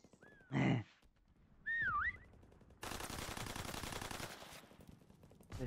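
Gunfire in a first-person military shooter video game, sustained automatic bursts filling the second half loudly after a couple of whistling or shouted tones at the start.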